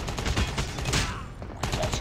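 Rapid gunfire in Call of Duty Mobile on the Scrapyard map during a Domination match, dense bursts of shots running almost continuously through the moment, loud and close with game effects layered in.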